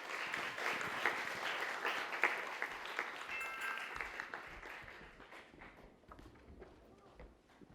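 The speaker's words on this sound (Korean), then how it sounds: "다시 한 번 더 힘찬 박수로 맞아주시기 바랍니다" A school audience applauds a high school team arriving at a student mock-trial competition, clapping dense and steady at first and thinning toward the end, with faint voices underneath.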